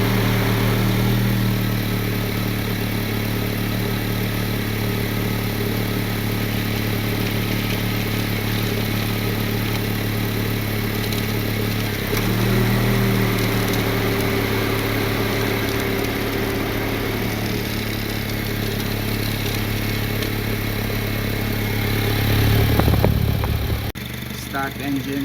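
Eighth-generation Honda Civic R18 engine cranking during a compression test, a rhythmic steady starter churn with a low pulsing drone, loud and close, repeated in long stretches with short pauses between runs.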